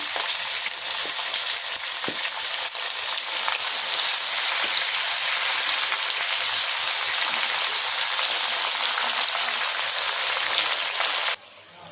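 Washed chicken pieces fry in hot oil with tempering spices, giving a loud, steady, dense sizzle that runs unbroken for about eleven seconds before cutting off abruptly.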